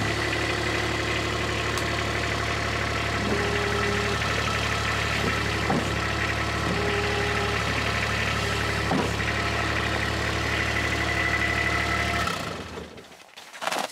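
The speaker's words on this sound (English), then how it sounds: "I'm just going to cycle it gently because I've got some stuff on the back, but I really like this hydraulic dump valve" A Kubota X1100C RTV runs at a steady loud idle with its hydraulic dump bed gently cycled, adding faint pump tones and a few knocks before the engine sound drops away near the end.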